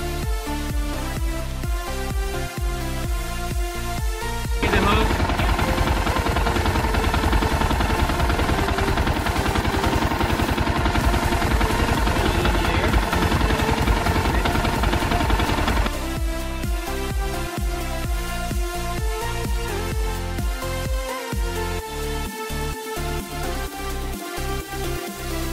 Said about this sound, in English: We just plug it into the power on the motorbike, and it blows up the mainframe.